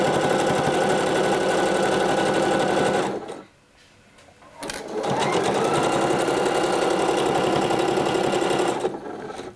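Sewing machine stitching a sweater seam, a loud rapid mechanical whir that pauses briefly midway, then resumes and runs steadily again, heard close and alone.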